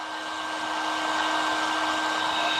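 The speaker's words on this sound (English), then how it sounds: "stand here for 10 minutes with a glorified hair dryer, also known as a hot air gun" Hot air gun blowing steadily on a tire, producing a constant, close, even whoosh with a faint motor whine and no pauses or talk.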